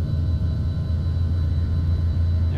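A Cobra attack helicopter in a flight video game gives a steady, loud whirring drone with deep low rumble, holding constant throughout with no voices.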